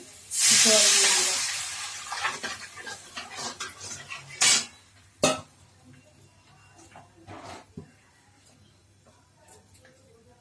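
Spice paste for a catfish curry fries in a pan with a loud sizzling hiss at first, then scattered clinks and scrapes of a utensil stirring against the pan.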